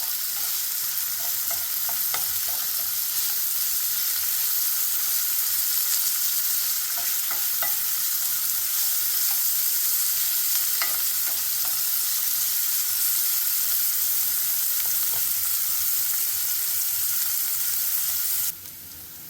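Onions and vegetables sauté in a pot for crab bisque, giving a constant, even sizzle with a few faint utensil clicks before it drops away at the very end. There is no speech.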